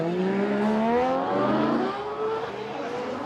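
Formula Drift cars at Suzuka scream past as they race, engines revving and rising in pitch in several sweeping climbs, loud and close, with tire noise mixed in.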